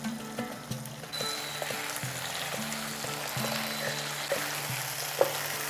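Poppy seed paste frying in a pan of oil with yogurt and nuts, a soft steady sizzle with faint crackles and occasional clinks of stirring.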